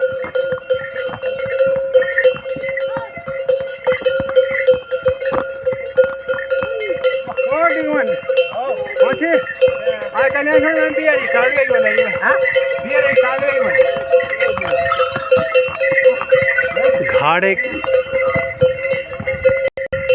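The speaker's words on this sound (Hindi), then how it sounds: "घोड़े की टन-टन की आवाज़" Bells clanging on pack horses along a Himalayan mountain trail near Tungnath and Chandrashila, a dense, continuous ringing of many bells close by, with voices and chanting mixed in.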